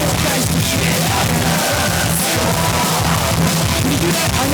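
Live convention audience cheering, yelling and whooping at a Power Rangers 30th anniversary cast panel, a loud continuous crowd roar filling the room throughout.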